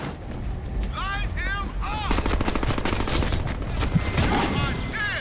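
Rapid machine-gun fire and gunshots in the Deadpool video game, a dense continuous burst of loud shots mixed with other game effects and music.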